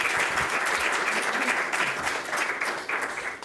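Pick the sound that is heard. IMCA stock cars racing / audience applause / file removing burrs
audience applause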